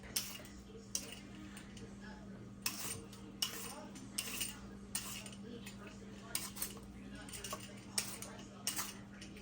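A knife slicing a cucumber on a board at an outdoor Fourth of July cookout, with a run of sharp, evenly spaced chops, close and fairly quiet, over a low steady background hum.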